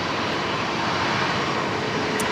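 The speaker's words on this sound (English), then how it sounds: "the aircraft heading into Sydney" A fixed-wing jet airliner at Brisbane Airport at night, heading for Sydney, roars steadily and broadly, a continuous loud engine rumble and rush with no pauses.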